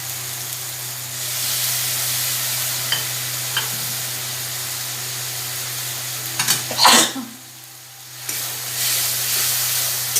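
Pointed gourd with tomato, ground spices and a splash of water being stir-fried: a constant close hiss of sizzling with a few utensil scrapes and a brief clatter near the end, then a short lull before the sizzle returns.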